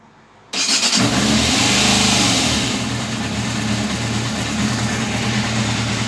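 A Yamaha YZF600R Thundercat motorcycle is started on choke: a brief cranking gives way to a loud, close catch and a steady, slightly raised idle that settles and runs on with no talking.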